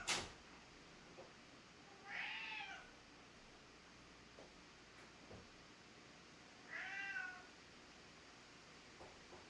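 A pet cat meows twice indoors, each a short rising-falling call several seconds apart, fairly close but not loud, with faint thumps and quiet room noise between.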